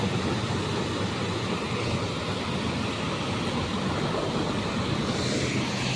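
Steady rushing of a water current flowing past rocks outdoors in the rain, a broad, constant wash of noise that stays loud and even throughout with no voices.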